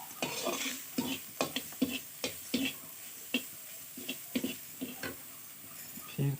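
Arbi leaf sabzi being stirred in a pan with a spoon, a steady run of close clinks and scrapes against metal with a faint sizzle between strokes.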